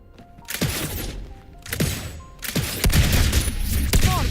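Rapid bursts of gunfire from the Wuthering Waves action game, several sharp volleys in quick succession with impacts and shattering debris, loud and close, building denser toward the end.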